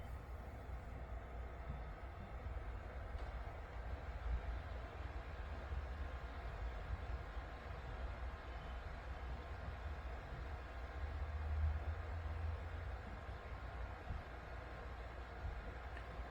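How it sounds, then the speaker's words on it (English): Steady, low rumbling drone of a long train journey in the video game Fancy Place 2, a continuous rolling noise that holds at an even level throughout with no voices. "This train trip will take up the entirety of this video."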